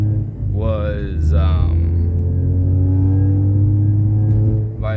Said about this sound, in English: I'm sorry if I'm not revving it out as much as I should be.